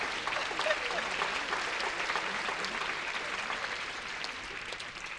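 A sustained round of applause from a conference keynote audience, dense and steady crackle of many hands clapping at once, holding evenly throughout before gradually easing.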